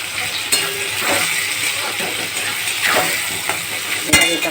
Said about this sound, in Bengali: এবার এটাকে টমেটো দিয়ে ভালো করে আমি ভেজে নেব